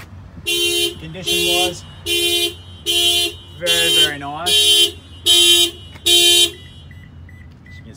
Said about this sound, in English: one of the alarms just went off, so sorry about the noise